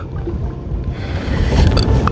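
A wooden boat is rowed across a small jungle creek, water sloshing and churning close by in a steady, rising wash, with wind buffeting the microphone and no voices.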